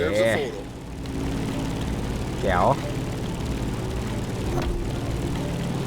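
Airplane engine in the video game The Crew Motorfest, a steady droning hum heard throughout at a fairly constant level while someone talks over it.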